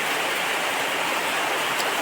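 Heavy evening rain pours down in the Barak Valley after a spell of heat, a dense, steady hiss with no pauses that stays close and fairly loud throughout.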